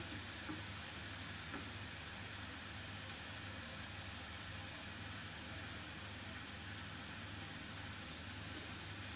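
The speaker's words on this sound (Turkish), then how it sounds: "Soğanlarımız güzelce kavrula dursun" Onions frying in a pan for kısır, a steady soft sizzle and hiss running evenly throughout at low volume with no talk.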